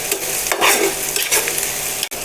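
Onions frying in hot oil in a pan until reddish, a loud, close, continuous sizzle with a few stirring scrapes, no one talking.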